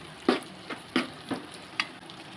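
Spice masala of turmeric, chili powder and coriander powder being stirred in a frying pan for fish curry, with a handful of soft scraping stir strokes over a faint, quiet sizzle.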